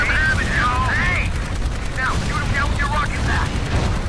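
Constant gunfire in the video game Dark Void, a loud continuous rattle of shots under a man's speech, with warbling effect tones and a low rumbling background throughout.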